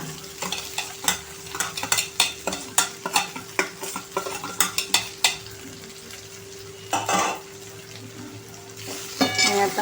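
Leftover rice with turmeric being stir-fried in a pan, a soft sizzle under a quick run of sharp spatula knocks and scrapes against the pan, close and clear, then a brief watery hiss, no speech.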